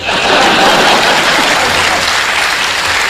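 Loud, dense applause from a large audience, continuous clapping at full strength throughout.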